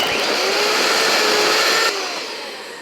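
An electric mixer beats egg whites on medium-high speed, a loud, steady motor whine that holds close and then drops slightly in level toward the end, with no talk.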